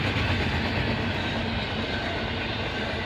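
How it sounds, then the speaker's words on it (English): A long freight train carrying containers in well cars and trailers rolls past near Oak Harbor, Ohio, a loud, steady rumble with faint wheel clatter throughout. "Kind of a companion train to the one we just saw."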